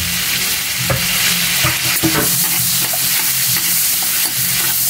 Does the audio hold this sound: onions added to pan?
yes